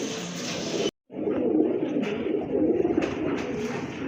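A pair of pigeons coo in soft, low rolling calls, close by and steady, with a brief silent gap early on.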